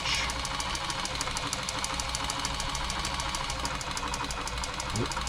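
A freshly serviced, lubricated Bernette b35 sewing machine runs a straight stitch, giving a fast, even, mechanical clatter and whir that stays close and continuous throughout.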